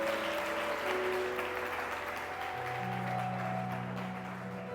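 Church congregation applauding during a Portuguese-language service, a continuous wash of clapping with sustained organ or keyboard tones underneath, fairly distant and even.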